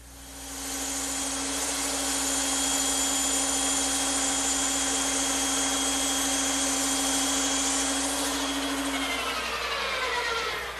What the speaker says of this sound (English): I'm ready to cut them on the bandsaw.